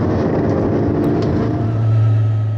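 EuroNASCAR race car engine in a racing video game, a loud continuous drone holding steady and rising slightly toward the end with no talk over it.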